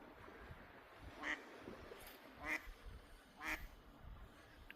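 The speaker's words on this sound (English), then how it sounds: "The ducks are coming down river." Ducks quack on a tidal river at low tide in a small Newfoundland town, three distinct separate calls spaced about a second apart, fairly distant over faint outdoor background noise.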